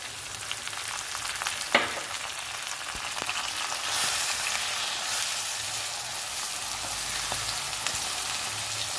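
Coconut chutney with curry leaves fries in a hot tempering, a steady close sizzle with a sharp pop early on and faint stirring knocks throughout.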